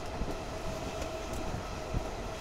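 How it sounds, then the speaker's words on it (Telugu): A goods train rumbles past on the line near Kaukuntla, heard from aboard an express running at about 100 km/h: steady, loud broadband rail noise with faint clicks of wheels over joints and no talk. "గూడ్స్ ట్రైన్ కూడా మనం ఇక్కడ వెళ్తూ ఉన్నాము."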